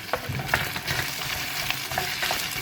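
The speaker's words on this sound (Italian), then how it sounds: "facciamo rosolare un attimo per far insaporire" Carrots and potatoes sizzle and fry in a pan as they brown, a steady crackle with occasional stirring scrapes, close and moderately loud, no talking.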